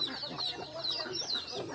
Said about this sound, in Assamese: হাঁহ, কুকুৰা